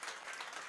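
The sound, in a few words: congregation clapping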